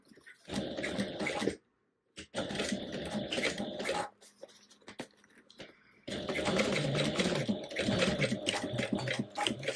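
A sewing machine tacks down the short edge of a bag, with bursts of fast, steady needle stitching broken by brief pauses and a quieter stretch in the middle, close and fairly loud.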